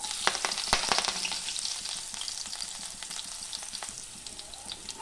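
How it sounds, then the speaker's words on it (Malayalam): Chopped onion, dried red chillies and curry leaves hit hot oil in a pan for a banana-blossom curry, giving a steady close crackling sizzle with sharp pops and spatters throughout, no voices. "ഇനി നമുക്ക് അരിഞ്ഞു വെച്ചിരിക്കുന്ന ഉള്ളി വറ്റൽമുളക്"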